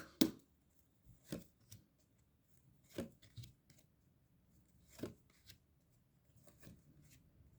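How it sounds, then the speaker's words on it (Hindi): Tarot cards get a final shuffle at close range, heard as short papery riffles and slaps in irregular bursts roughly every one to two seconds against a quiet background, no talk. "Final shuffle."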